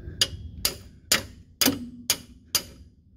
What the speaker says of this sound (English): I'll try the hammer first.